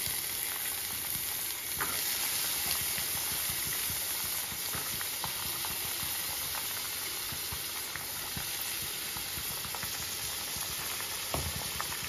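Carrot pieces sizzle steadily in hot oil with onion, mustard seeds and dried red chillies, a dense continuous frying hiss with occasional crackles and stirring scrapes, close and unbroken throughout.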